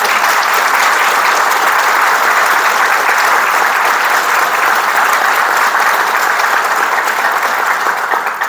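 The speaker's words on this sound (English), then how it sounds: "So you owe them a huge round of applause." Dense, steady applause from a ceremony crowd at a naming and groundbreaking event, loud and continuous for the whole stretch with no letup, no voices rising above it.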